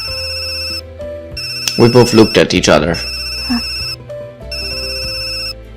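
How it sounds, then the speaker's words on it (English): A cell phone ringtone chimes from inside a woman's purse, a steady electronic melody repeating through the whole stretch, with a voice speaking over it briefly in the middle. "The sound of a cell phone."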